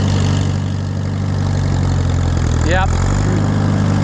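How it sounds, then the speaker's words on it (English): An Allis Chalmers WD tractor engine idles roughly on a little choke, a loud steady low rumble close by, with a brief spoken word over it. "Got it run with a little bit of choke."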